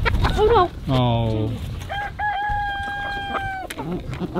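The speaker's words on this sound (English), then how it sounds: "These are the world's tallest chicken breed. We got 1 rooster and 6 hens in here" Indio Gante chickens, the world's tallest breed, in a small flock of one rooster and six hens: a loud, close rooster crow with a long stepped call and clucking around it, with a brief voice near the start.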